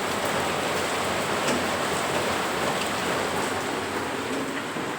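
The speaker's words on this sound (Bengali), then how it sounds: "অবিশ্রান্ত বৃষ্টি হয়েই চলেছে" Steady morning rain falls without a break in a loud, even wash of dense patter.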